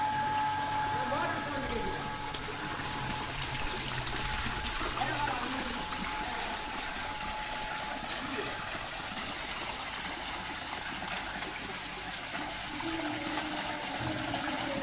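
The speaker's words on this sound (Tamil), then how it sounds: "மோட்டர் ஆன் பண்ணி வச்சு தண்ணி தரங்க" An electric water pump runs steadily while water flows and trickles into a newly built lily pond, a continuous close wash of running water lasting throughout.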